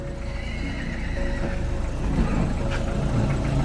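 A horse neighs and whinnies loudly, with hoof clip-clops, as it is led out of its stall during a move of a five-month pregnant white hybrid mare, over steady outdoor background noise.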